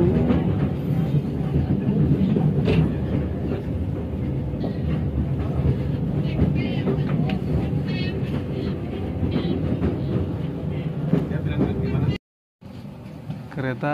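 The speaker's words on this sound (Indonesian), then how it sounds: "Kereta Cikuray tiba di stasiun" The Cikuray train pulls into a station, its loud rumble and clattering wheels filling the scene nearby with continuous heavy rolling noise until a brief cut near the end.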